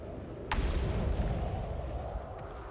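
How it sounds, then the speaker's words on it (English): A deep rumbling blast in the space exploration game Outer Wilds, beginning with a sharp burst and rolling on as a loud, sustained low roar with no talk over it. "Things are exploding"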